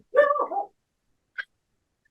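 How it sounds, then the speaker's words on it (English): A single dog gives one short bark-whine close by, followed by two brief yips spaced out in otherwise quiet room. "Sorry, that's my dog."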